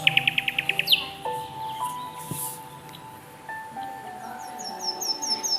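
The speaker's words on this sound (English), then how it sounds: "parrot," A parrot gives a quick run of sharp, repeated chirps at the start, then falls silent under steady background music with a few faint bird notes later.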